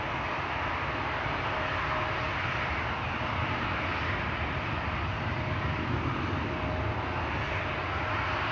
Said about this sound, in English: Air Baltic flying on behalf of Austrian Flight 380 coming this way to be leaving for Vienna